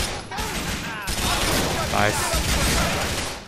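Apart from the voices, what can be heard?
gunfire in a shootout, from the video game GTA IV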